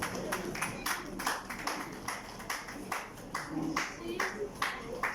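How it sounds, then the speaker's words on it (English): A round of applause at a dinner: scattered, fairly faint clapping from a modest crowd, uneven and rhythmic in bursts, with a voice talking over it. "Another round of applause, please."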